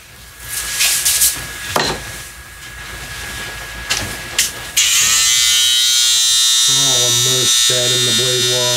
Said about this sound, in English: cordless clipper.